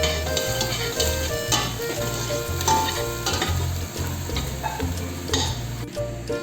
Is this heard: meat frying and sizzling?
yes